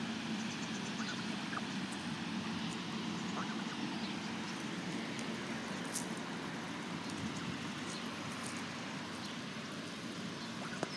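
Canada geese and their juveniles feeding on oats outdoors, with soft quacking calls scattered over a steady broadband background wash throughout.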